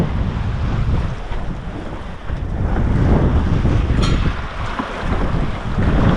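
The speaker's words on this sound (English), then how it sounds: "The wind and the waves are coming from right behind me" Steady wind buffets the microphone while waves wash and rush around a sailboat running downwind in light air toward Mackinac Island, a continuous loud roar with no voices.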